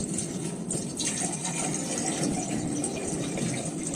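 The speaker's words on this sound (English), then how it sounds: "I tipped the first load of water into the fish tank" Water tipped by the load into a Lego SpongeBob fish tank, a steady broadband pouring and splashing rush that stays even and fairly loud throughout, with no voices.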